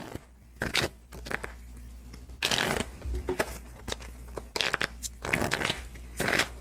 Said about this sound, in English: I need to reshuffle because the Joker is drawn. So let's go ahead and get that shuffle on.